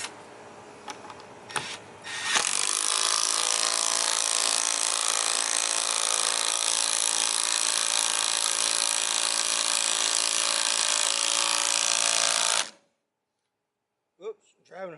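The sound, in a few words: Milwaukee M12 cordless driver driving lag bolts into wood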